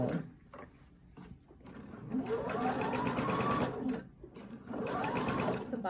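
A sewing machine runs in steady bursts as it stitches a bias strip onto the armhole of a sewn top, with a rhythmic mechanical whir that starts and stops a few times and sounds close.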